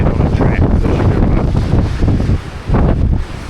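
Strong wind buffeting on a mountain track in the ranges, loud continuous roaring gusts against the microphone with a brief lull near the end.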